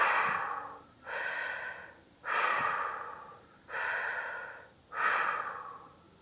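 Five strong, evenly paced breaths, each a noisy rush of air lasting about a second, pushed out forcefully during a weight-lifting workout, close to the microphone with brief quiet gaps between them and no talking.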